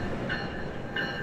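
A commuter train rumbles past up close, a steady broad roar of rail noise with two brief high wheel squeals over the top, loud and continuous with no voices.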